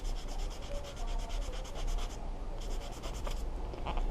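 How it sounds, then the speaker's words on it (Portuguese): Sandpaper rubs back and forth across a punctured rubber inner tube in steady, close, gritty strokes that continue without pause, with no voices. "Lixa em uma direção."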